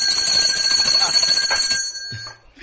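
An electric bell rings on a TV morning debate show, a loud, steady metallic ring lasting nearly two seconds before cutting off.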